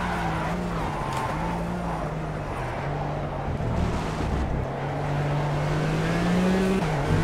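A Lykan HyperSport race car in Project CARS, its engine droning steadily with a rising and falling pitch as gears shift, with occasional tire squeal, loud and close throughout.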